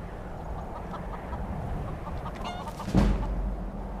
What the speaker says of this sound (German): Hühner, ich hab's gewusst.